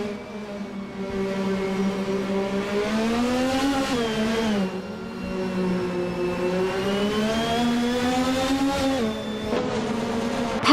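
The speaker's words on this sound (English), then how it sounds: "driving the 1988 Ferrari F18788C" A 1988 Ferrari F1 race car engine in a racing video game drones loudly and continuously, its pitch rising and falling with gear changes and throttle lifts, with no voices.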